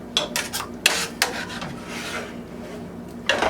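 A spoon or spatula scrapes the bottom of a pan of smothered pork chops in gravy, giving a few short rasping strokes close up, with a brief pause between bursts.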